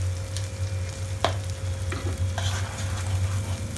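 Paneer masala frying with turmeric, Kashmiri red chili powder and salt sizzles steadily in a pan while a spoon stirs and scrapes through it, with one sharp knock and a low electrical hum underneath.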